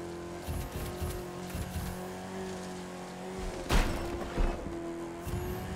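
A race car in a video game drives fast along a track, its engine droning steadily and close, with occasional tire squeals and sharper bursts as it slides through corners.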